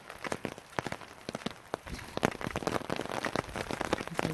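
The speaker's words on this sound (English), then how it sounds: "I wanted to capture the sound of the rain on the umbrella" Rain pattering on an umbrella beside a lake in Alaska, a dense, irregular run of close, sharp drops that thickens into a steady patter, with no voices.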